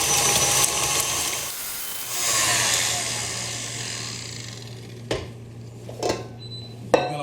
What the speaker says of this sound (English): So we're gonna beat that until it's nice and smooth and nicely incorporate to your butter.